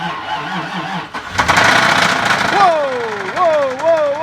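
A Land Rover LR3 4.4-litre V8 with an engine problem cranks and fires up with a rough, knocking rumble, running unevenly and loudly while people talk over it.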